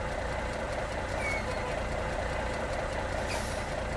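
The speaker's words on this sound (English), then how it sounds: "I know Taylor loves the air sounds on my brakes." Air brakes on a heavy truck hiss steadily in a simulated convoy drive, a broad continuous rush of air over a low engine rumble, loud and close with no pauses.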